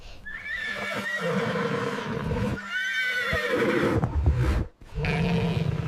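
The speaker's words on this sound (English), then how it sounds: "This is a horse." A horse neighs loudly in a long, shaky whinny, then calls again with rising, wavering cries, close and clear with no talking.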